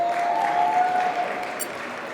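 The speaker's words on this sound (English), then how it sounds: "Please give him another round of applause," Applause from an audience at a Black History Month reception after a performance, a thick sustained clapping crowd that fades slightly toward the end, with a faint tone running underneath.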